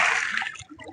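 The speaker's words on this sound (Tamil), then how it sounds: "தம்பிய பாருங்க ஃப்ரெண்ட்ஸ், எவ்வளவு அழகா குளிக்கிறான்னு." A boy splashes while bathing in water at Kumapatti, one short bright splash that quickly fades into faint sloshing.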